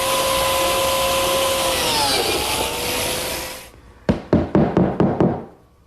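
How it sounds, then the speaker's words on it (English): A biscuit joiner cuts slots in a tabletop, guided along a clamped level: a loud, steady motor whine winds down, then a quick run of about six sharp knocks follows before fading out. "I'll simply run the biscuit joiner against the level and cut the slots."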